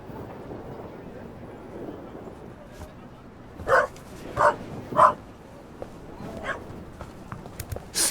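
A dog barks in the video game The Raven Remastered: three sharp, fairly loud yaps spaced about half a second apart midway through, over a murky game ambience with a few fainter yips later on.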